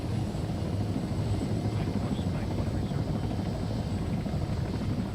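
Helicopter in the video game Arma 3, a steady, loud rotor-and-engine drone that holds constant throughout with no clear breaks.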